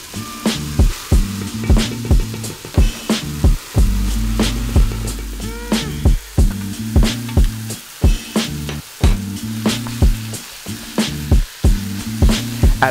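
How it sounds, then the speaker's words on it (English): Loose sausage meat and chopped vegetables brown in a hot pan for a spaghetti meat sauce, with a constant loud sizzle and repeated scraping stirs, under background music. "Add all of the meat and continue to brown everything until it's cooked."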